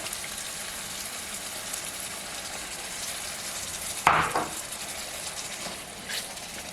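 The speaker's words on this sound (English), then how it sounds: "Add in your beef stock." Beef stock pours into a pan of bolognese sauce, giving a steady bubbling sizzle that swells into a short, sharp splash midway before settling back to a soft simmering hiss.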